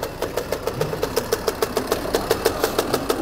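A 50cc motocross motorcycle engine idles close by with a steady, rapid pulsing beat of sharp regular exhaust pops, loud and alone without any talk.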